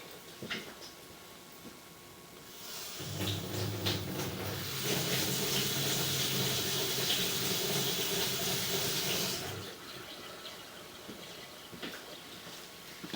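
Water from a stationary tub rushes down a drain stack pipe, a loud, steady broadband gush lasting several seconds after a faint start, then cutting off to low background.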